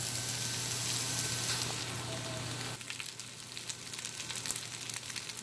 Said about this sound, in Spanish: Ahorita estoy calentando mi arroz casamiento